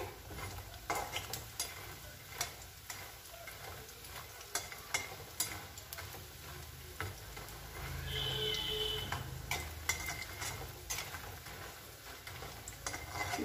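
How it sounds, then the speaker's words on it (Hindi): Radish vadi (bari) frying in hot oil, a faint low sizzle with scattered light clicks and occasional stirring taps, growing slightly fuller midway, distant and without talk. "हम इसमें बड़ी को फ्राई कर लेते हैं हल्का गोल्डन ब्राउन करके निकाल लेंगे इसे"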